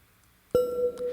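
A single struck metallic tone from a synthesized crystal singing bowl rings out suddenly after a quiet moment, sustaining a clear pitched hum with a soft shimmering decay.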